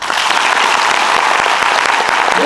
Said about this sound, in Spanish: aplauda en este momento